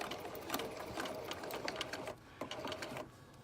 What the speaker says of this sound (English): when you sew, you're going to sew using your 1/4 inch seam, and you're just going to sew it